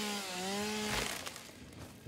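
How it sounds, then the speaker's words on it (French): A chainsaw in the video game Satisfactory gives a rising and falling droning whine, then breaks into rough, crackling cutting noise that fades toward the end. "J'espère que le son de la tronçonneuse est pas trop fort ni trop chiant à entendre."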